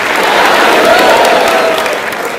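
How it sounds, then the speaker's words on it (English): A hospitality convention audience bursts into steady, dense applause as a speaker is welcomed onto the stage, with the clapping sustained and even throughout. "With a huge round of applause, can we have on stage Mr. Melvyn Pryor?"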